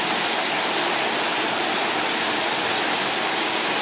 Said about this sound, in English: the water is coming into the lock so that the boat will rise up to meet the level of the water on the other side